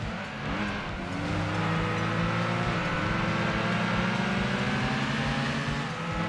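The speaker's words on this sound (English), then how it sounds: "What is this cheesy engine sound? To be fair, it's probably more of an exhaust sound than a intake sound." A car's exhaust note in the racing video game Gran Turismo 2, a steady droning engine held at high revs, loud and continuous throughout with slight shifts in pitch and no talk.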